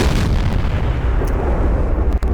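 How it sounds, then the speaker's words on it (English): Tank destroyer gunfire in World of Tanks, a dense, continuous roar of loud booming artillery and impact blasts, with the shell striking a ridge short of its target. "Shell falls short and hits the ridge just in front of the tank I was aiming at."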